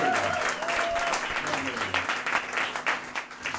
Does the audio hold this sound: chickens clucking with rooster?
no